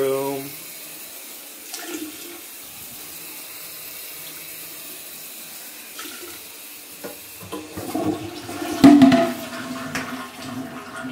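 Toilet flushing in a bathroom during a quick toilet repair, a quiet watery trickle building to a louder rushing surge near the end, heard alone without talk.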